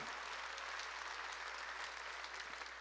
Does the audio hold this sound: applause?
yes